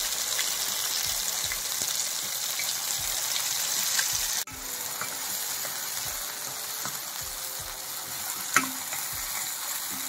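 Onions fry in a pan of hot oil for a dhaba-style baby potato curry, giving a continuous close sizzle with soft spoon stirs and one brief clink near the end.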